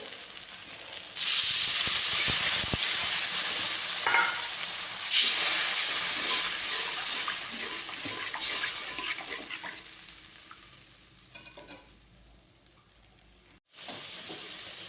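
Water poured into a pan of fried spice masala for a mustard-based bhola fish curry, bursting into a loud broad hiss and sizzle that settles into a steady simmer, fading softer toward the end, with no talking.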